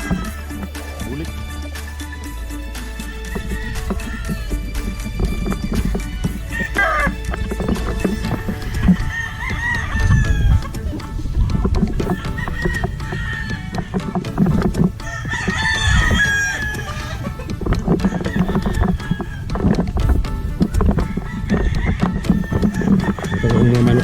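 Roosters crow several times in a row, loud and close, over a dense background of other barnyard noise that includes what sounds like hooves and a horse.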